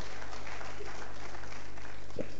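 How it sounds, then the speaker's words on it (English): Audience applause at a live awards event, a dense, steady wash of clapping from a crowd, moderately loud and continuous through the clip. "Aha, let's clap for them."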